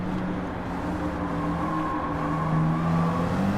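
A race car accelerating, its engine a steady rising drone with layered whine, close and moderately loud throughout with no voices.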